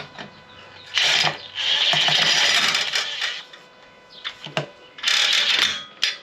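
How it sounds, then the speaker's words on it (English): Bolts being threaded into a motorcycle fork on a Sportster or Softail: loud bursts of metallic whirring and ratcheting separated by quieter gaps, close up, with no voices. "I'm going to throw 2 bolts in here, just get them threaded so we can kind of get this started."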